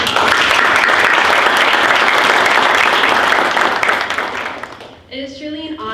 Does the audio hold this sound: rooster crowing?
no